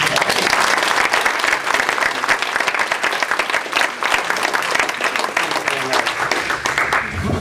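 Sustained audience applause at an employer recognition awards ceremony, dense, steady clapping from a large room that carries on throughout with some voices underneath.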